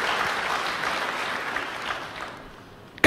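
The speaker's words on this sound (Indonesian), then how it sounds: "Berikan tepuk tangan yang meriah buat Tuhan." A church congregation claps together in a sustained, dense round of applause that gradually tapers off over about three seconds, ending with a sharp knock.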